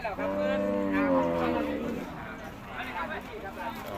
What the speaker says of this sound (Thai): วัวยักษ์วัวใหญ่